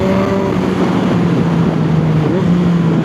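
A 2021 Yamaha MT-09 naked motorcycle's exhaust gives a steady, loud engine drone with low harmonic tones, mixed with wind rush for the whole stretch and no talk.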